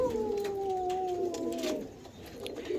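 A Teddy-breed pigeon coos softly close by, a few drawn-out, falling calls with slight wavering, fairly quiet.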